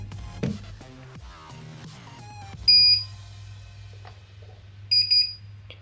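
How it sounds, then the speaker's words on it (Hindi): An ECO 5 security panel emits two separate double beeps while learning a door sensor, each a short bright electronic pair standing alone in a quiet room, the second arriving about two seconds after the first. "हमको डबल बीप सुनाई देगा।"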